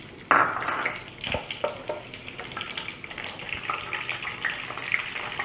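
Whole cinnamon sticks, cloves, star anise and cardamom pods frying in hot oil for nasi minyak, a steady close sizzle with a sharp burst as the spices hit the pan, then stirring clinks and crackles over the continuous hiss.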